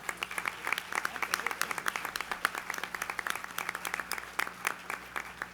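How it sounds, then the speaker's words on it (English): A modest crowd at a WKU-sponsored Rooster Booster breakfast event claps in a light, fairly quiet burst of distinct hand claps that keeps an even pace for several seconds, with no talking. "That deserves a round of applause."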